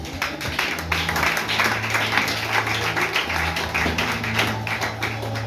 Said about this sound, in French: Acclamons les femmes